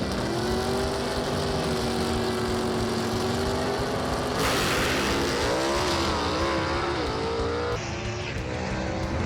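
A gasser drag race car with a 451 cubic inch motor roars hard at full throttle, loud and sustained, its pitch climbing through gear changes as it races down the strip, with no talk.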